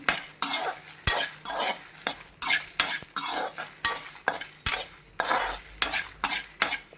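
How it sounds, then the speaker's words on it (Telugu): Masala with cumin being dry-roasted in a pan for a stuffed brinjal fry, stirred with a metal spoon in repeated scraping strokes about once a second, over a steady background sizzle. "ఇది ఇలా మంచిగా వేపేసుకున్నామండి. ఈ మసాలా అంతా పచ్చివాసన పోయేదాకా అండి."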